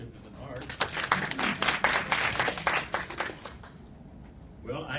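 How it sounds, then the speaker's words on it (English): A conference audience bursts into applause, clapping swelling quickly then fading over a few seconds before a speaker's voice resumes. "if you think leadership is an art, applaud."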